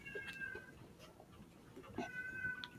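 A house cat outdoors gives a couple of faint, drawn-out meows a short distance off, spaced apart over soft background noise.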